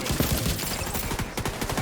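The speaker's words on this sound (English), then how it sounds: "I hear gunfire." Dense rapid gunfire from the video game The Division, a sustained fusillade of overlapping shots with machine-gun bursts, loud and continuous throughout.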